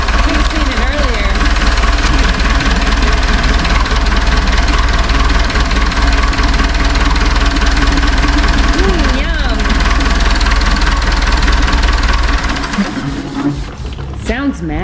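Cat forklift engine running while blowing, a loud, rough idle with heavy low rumble and a rhythmic knocking chug that holds steady before loosening near the end, with a voice speaking over it.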